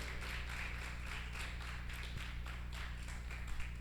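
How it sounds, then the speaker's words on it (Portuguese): A congregation at a youth church service claps in a steady, continuous round of applause that fills the whole stretch evenly at a moderate distance, with no voices over it. "Uma salva de palmas aí para o Startim, viu?"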